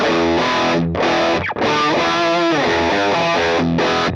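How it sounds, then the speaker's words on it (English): Loud electric guitar through a UAFX Ruby pedal with its boost at about halfway, heavily overdriven, distorted tone, strummed chords ringing continuously with a couple of brief breaks, no voices. "Now, the boost on this, so I've just brought it up sort of about halfway."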